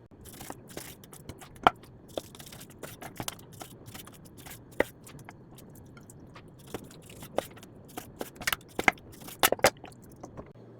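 Knife cutting raw pork into big chunks for a mushroom pork stew, a series of sharp, irregular chopping clicks and taps on a cutting board, close and fairly quiet, with no talking.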